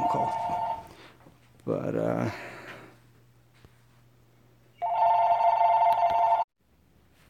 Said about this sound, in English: I gotta answer that phone call.